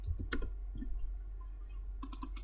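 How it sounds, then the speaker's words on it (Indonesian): Typing on a computer keyboard: quick clusters of crisp key clicks at the start and again near the end, with a quiet stretch between. "Di sini saya ketik name"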